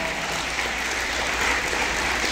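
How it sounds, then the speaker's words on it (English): Steady, dense applause from an awards ceremony audience honoring the judges, loud and sustained throughout with no gaps. "Shall we give them a really nice round of applause?"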